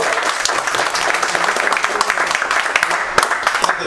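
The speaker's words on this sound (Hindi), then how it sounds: "एक बार दो गेस्ट स्टेज पे जोरदार ताली बजाओ" Audience in a classroom or hall applauding guests on stage, a dense, continuous burst of clapping from many hands, close and fairly loud, with a faint voice underneath.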